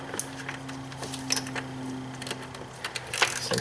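Small clicks and metallic ratcheting as bolts are snugged down on the oil filter housing of a BMW N52 inline-six engine, faint and irregular over a steady low hum, with no speech.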